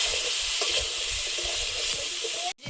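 Drumstick vegetable pieces sizzle loudly in hot oil with a continuous bright crackle and soft stirring scrapes, cutting off abruptly at the end.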